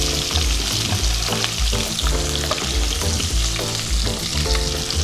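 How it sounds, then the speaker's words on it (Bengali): Dried Bombay duck fish (loitta shutki) fries in hot mustard oil in a heated kadai. A loud, continuous sizzle holds steady throughout, with a rhythmic low thumping underneath. "শুটকি মাছগুলো তেলে হালকা ভেজে নেব।"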